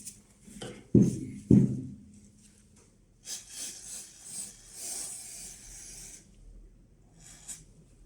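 A toothbrush scrubs against metal handgun parts, with two sharp knocks early, then a stretch of bristly rubbing strokes, close and moderately loud.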